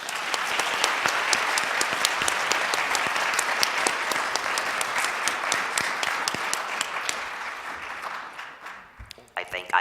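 Sustained audience applause following a lecture on religious art, dense steady clapping from a large crowd that fades toward the end.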